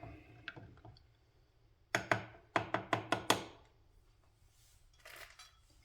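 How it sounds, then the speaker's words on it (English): Yeast being stirred into home-brewed chhaang, a soft scrape followed by a quick series of about six sharp clinks of a utensil against a container, then faint rustling. "And now stir the yeast one more time."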